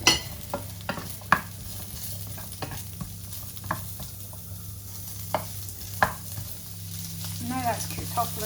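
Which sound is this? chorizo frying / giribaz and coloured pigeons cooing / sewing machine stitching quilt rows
chorizo frying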